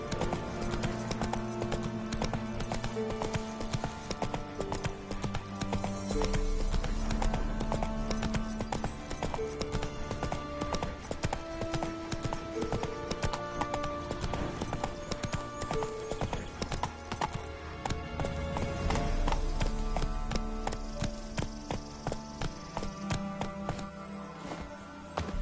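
Geralt's horse in The Witcher 3 galloping, a steady drumming of hooves running throughout with shifting game music and ambience, a whinny briefly audible.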